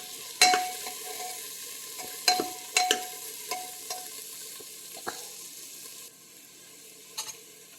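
Carrots, beans and peas sautéed together in a pan for vegetable biryani, with a spatula scraping and clattering in sharp, irregular strokes over a low steady sizzle, close and fairly quiet.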